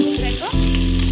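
Farm chicken dropped into an oiled pan bursts into a dense, close sizzle that swells after a brief dip and holds steady and loud to the end.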